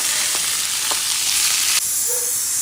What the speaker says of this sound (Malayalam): തേങ്ങാക്കൊത്ത് വറക്കാനായിട്ട് നെയ്യ് ഒഴിച്ചിട്ടുണ്ട്